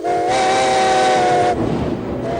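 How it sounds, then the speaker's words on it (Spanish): A loud steam locomotive whistle blows a sustained, chord-like tone for over a second, then cuts off into hissing steam. "Cada vez que suena el silbato de un tren de vapor, llena el aire por completo."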